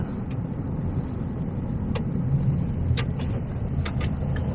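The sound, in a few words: white truck passing on the road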